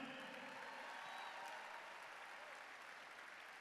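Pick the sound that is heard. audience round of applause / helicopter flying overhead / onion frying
audience round of applause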